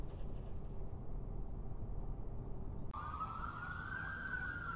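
A police siren rises and wails steadily in the second half, loud and fairly close, after a stretch of low rumbling train interior noise.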